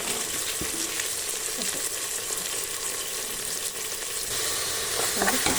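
Mutton fries in a pan with onion, a loud, steady close-up sizzle that hisses evenly throughout, with a few soft stirring knocks and scrapes.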